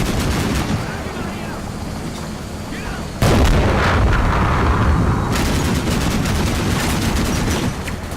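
Artillery firing for effect in the Combat Mission Shock Force 2 war game, with dense rolling booms and rumbling impacts throughout and a louder burst of blasts partway through.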